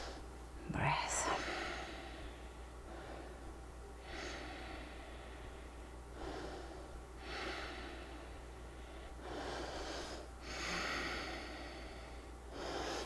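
Slow, deep ujjayi breaths during a yoga squat, several long, hushed, throaty inhales and exhales rising and falling close to the listener at a quiet level.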